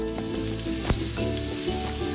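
Pounded dried shrimp and other ingredients stir-fry in a little oil in a wok over medium-low heat, a bright close sizzle with a sharp scrape of stirring near the midpoint and no voices.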